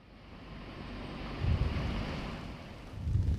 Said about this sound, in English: So it's already getting windy here. We are at the Juhu beach